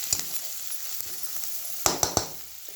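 Onion fries in oil for kanda poha, a faint steady sizzle with a few light knocks and scrapes from a spoon near the end.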